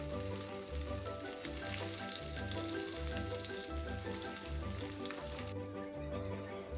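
Fish fries in hot oil in a pan, a steady close sizzle and crackle with rhythmic low bubbling pulses, no talking.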